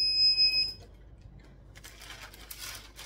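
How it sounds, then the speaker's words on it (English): A shrill electronic beep from a heat press timer sounds for under a second, followed by rustling and handling noises. "I'm sure the beeping is probably annoying you"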